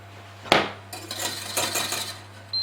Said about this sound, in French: On mélange, sinon ça va accrocher un petit peu.